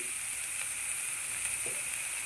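Spinach stems sautéing in hot oil for a cheera thoran give a faint, steady sizzle under a constant hiss, with no voices.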